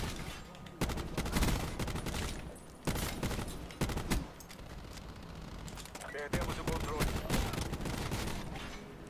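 An ABR rifle in Black Ops 4 fires bursts of loud, rapid gunfire in repeated volleys with short pauses between them, and other shots mix in.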